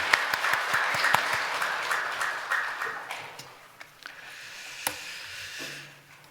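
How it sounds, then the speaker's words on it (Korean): Applause from a church congregation at a Sunday Lent worship service, sustained clapping from many people that slowly fades toward the end, with no one speaking over it. "박수 올려드리겠습니다."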